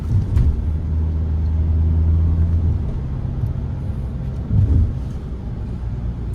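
Hyundai Venue HX10 compact car pulling hard under acceleration in sports mode, a steady low engine drone with a rising hum early on and another brief surge near the end, no voices.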